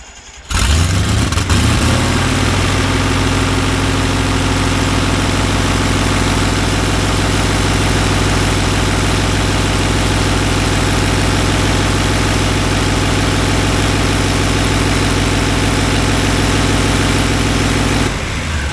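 A Renegade's engine fires up on its first start and settles into a steady, loud idle with a slightly high rumble, continuous and close for most of the run before cutting off near the end.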